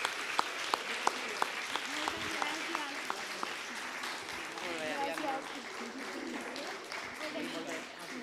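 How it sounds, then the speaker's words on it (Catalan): An audience at a university debate league final breaks into applause, a few sharp early claps swelling into dense, sustained clapping that fades slightly toward the end, with voices faint underneath. "jo demano, sisplau, un sincer i fort aplaudiment per les noies del vermell carmesí"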